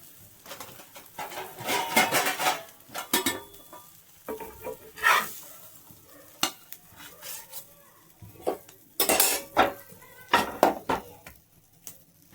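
An egg omelette is lifted from the pan onto a plate, with irregular bursts of metal utensils scraping and clinking against cookware and a faint sizzle, no speech.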